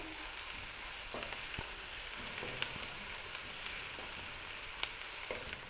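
Ginger garlic chili paste sizzles softly in a pan over low heat, a quiet, even crackle with a few faint clicks of stirring.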